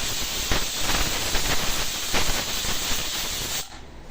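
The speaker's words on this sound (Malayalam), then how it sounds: "അപ്പൊ പിസിൽ വന്നു കഴിഞ്ഞു." A pressure cooker on a stove lets out a long, loud, hissing steam whistle that holds steady for several seconds, then stops abruptly.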